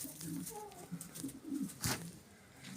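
Struk-breed pigeons coo softly in a few low, rolling phrases at close range, with a brief rustle or flap partway through.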